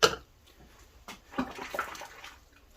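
A cordless Vax Blade vacuum's filter is washed by hand in a bucket of soapy water with washing-up liquid, giving soft sloshes and splashes in short bursts, with quiet gaps between.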